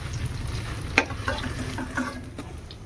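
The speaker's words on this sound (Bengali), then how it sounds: "আদা ভাজা করে উঠিয়ে নিচ্ছি।" Ginger pieces fry and sizzle in hot oil left from frying paneer, a close, steady crackle punctuated by a few louder stirring clinks and scrapes against the pan.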